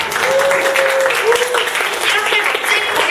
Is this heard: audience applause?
yes